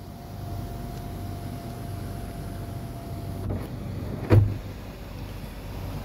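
Power sunroof on a 2022 Ford F-250 opens with a faint, steady electric motor hum inside the cab, ending in a single sharp click.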